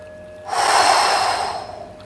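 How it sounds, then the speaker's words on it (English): One deep, breathy exhale during a morning yoga stretch, close and loud, starting suddenly and fading out over about a second, with no speech. "and breathing out."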